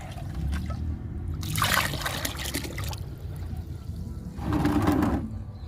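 Liquid plant feed trickles and splashes as it is poured and stirred into water in a plastic bucket, a soft sloshing that swells in two brief louder bursts with no talk.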